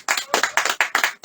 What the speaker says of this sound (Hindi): ताली बजाएंगे सब।